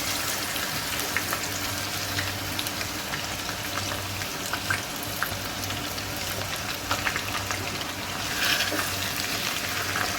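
Marinated chicken fries in a pan for shahi chicken korma, a steady close sizzle holding for the whole stretch with small stirring noises and no talking.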